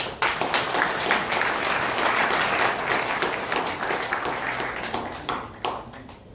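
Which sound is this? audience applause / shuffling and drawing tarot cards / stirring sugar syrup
audience applause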